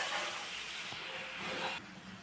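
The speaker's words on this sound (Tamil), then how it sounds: "இப்போ இது எல்லாமே நல்லா வதங்கட்டும் சார்." Tomatoes and tamarind sauté in a pan for tomato pickle, giving a steady, faint hissing sizzle that carries on evenly and drops a little softer near the end, with no talking.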